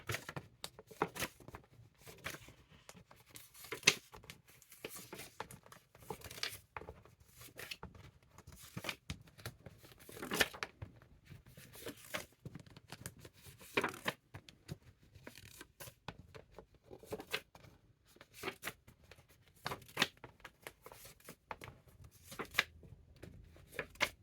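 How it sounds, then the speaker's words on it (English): Playing cards handled and counted one by one, soft papery flicks and riffles in irregular bursts, faint and close, with no talking. "I'm counting the numbers of the cards"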